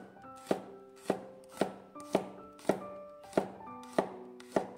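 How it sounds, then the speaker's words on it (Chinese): A knife slices peeled garlic cloves on a cutting board in eight evenly spaced, crisp thuds, close and clear over soft background music. "一些去皮的大蒜也把它切成片儿"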